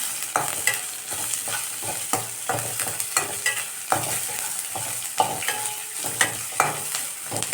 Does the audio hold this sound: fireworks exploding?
no